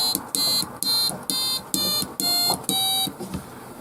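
A homemade electronic organ built around a 555 timer circuit plays a run of loud, buzzy electronic tones in short bursts, each note held briefly and separated by gaps, slightly out of tune.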